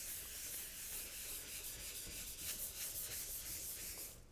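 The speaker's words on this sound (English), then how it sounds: "the fibers of the pad are working the wax into all the small crevices of the wood" A non-woven abrasive pad rubs wax into a wooden harvest table, giving a soft, steady scrubbing swish in quick back-and-forth strokes, faint and close with no voices.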